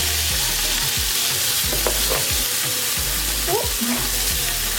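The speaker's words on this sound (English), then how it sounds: "So I'm going to start by adding my sweet peppers." Sweet peppers frying in oxtail drippings give a steady broadband sizzle, with a spoon or spatula scraping and stirring through the pan in repeated strokes, close and fairly loud, with no talking.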